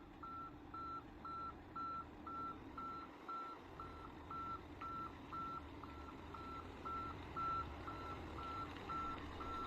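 A truck backing up, its reversing alarm beeping steadily in an even rhythm of about two beeps per second over a low engine rumble, heard from a moderate distance.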